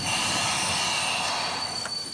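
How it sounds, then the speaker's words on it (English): Train in Congo slowing down, with steady rumbling and high metallic wheel squeal heard up close, continuous and fairly loud without talk. "Once again, the train begins to slow down."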